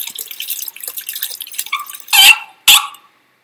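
Water drips and splashes from a busted bathroom faucet in a horror video game, a run of small close drips followed by two loud, sharp splashes before silence.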